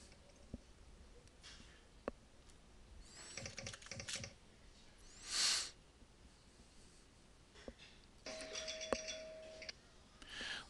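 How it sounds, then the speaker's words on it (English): Left and right Ctrl keys on a computer keyboard tapped to work the flippers in a pinball simulation game, sparse isolated clicks spread over quiet stretches with a few soft game sounds. "I use my control left and control right keys to operate my flippers"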